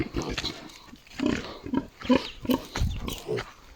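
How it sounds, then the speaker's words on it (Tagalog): Native piglets on a mountain farm grunt and oink in a series of short, close calls, with a person talking nearby. "Mayroon kami mga biik dito."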